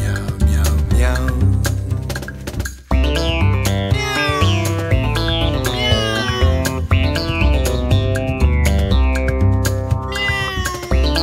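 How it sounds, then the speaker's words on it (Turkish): Children's pop song about a soft-furred cat, with sung meowing woven through a bright, full band arrangement of guitar, piano and steady beat. "Miyav miyav dedi, yumuşak tüylü kedi."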